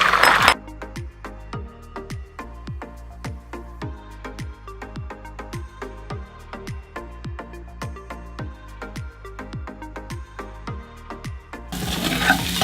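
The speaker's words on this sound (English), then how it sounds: "I don't whisk the eggs before I cook it" Eggs cooking in a Salad Master pan for breakfast fried rice give a steady sizzle, punctuated by a regular run of light clinks and taps against the pan, fairly close and alone.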